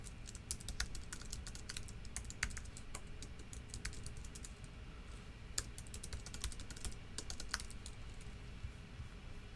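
Rapid typing on a computer keyboard, close and fairly quiet, with bursts of sharp key clicks and brief pauses between runs, no voices.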